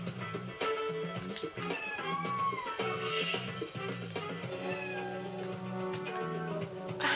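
Kittens in the video game Dog's Life meow repeatedly in short rising and falling cries over a dense, continuous bed of game music and effects, with no talking.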